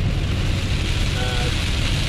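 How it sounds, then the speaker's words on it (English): Heavy rain pounds a car driving at night on the highway from Tennessee into Kentucky near Cincinnati, a steady dense roar of water and road noise with no break. "Rain is really coming down."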